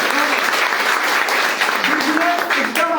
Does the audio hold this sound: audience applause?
yes